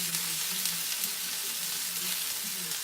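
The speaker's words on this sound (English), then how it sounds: "let that saute. That's going to be for the gravy that we're going to make for the cube steak" A pan sautéing ingredients for cube steak gravy gives off a continuous close sizzle at moderate level, steady throughout with no voices.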